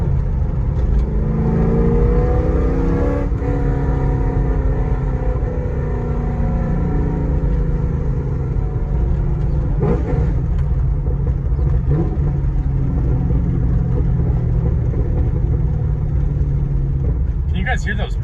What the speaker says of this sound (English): Couple downshifts for you guys.